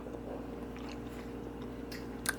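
Soft, faint chewing on a piece of spicy, soft, chewy Beyond Meat meatless beef jerky, heard close over a steady low background hum, ending in a brief sharper click.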